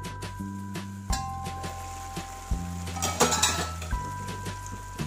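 A metal lid clanks onto a cooking pot of taro and tomato curry on a stove, with a few sharp clinks and rattles spaced across the moment against a faint steady hum.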